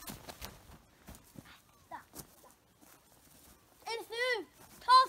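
A rescue dog being called over gives a few short whimpers and yips near the end, after scattered voices of people calling and talking, with quiet shuffling between.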